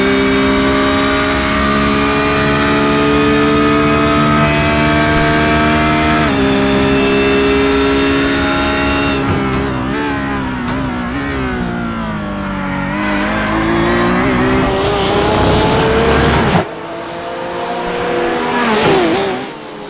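Onboard a sports car racing at Road America in the Australian Sports Car Championship, a loud engine revs up and down through gear changes, rising and falling in pitch with brief tire noise as it follows another car, with no talk.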